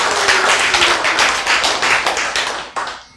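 A small audience claps together in a loud, quick run of individual hand claps, close and crisp, tapering off with a final few scattered claps.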